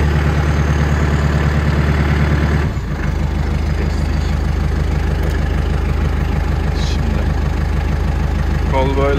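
A Landini Rex 100 GE tractor engine idles steadily up close with a low, even diesel throb; its pitch shifts briefly near three seconds before settling back into the same rumble, with a hydraulic trailer hookup nearby.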